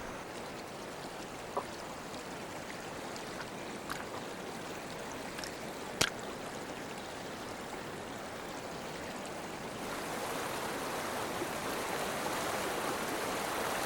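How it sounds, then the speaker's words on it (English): Fast-flowing Indus River in wintry Ladakh mountains, a steady broadband rush of stream water that never freezes, continuous and fairly distant, with a couple of faint clicks and no voices. "Even in the heart of winter, the fast-moving water never freezes over"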